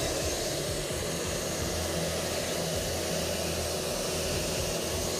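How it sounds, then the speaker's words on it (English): A shop vacuum runs steadily with a constant, loud whooshing drone and a low motor hum, unchanging throughout with no voices. "I think it is the shop vac."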